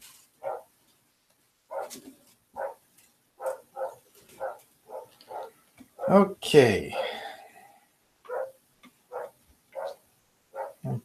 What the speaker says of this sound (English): Yeah, the dog's barking.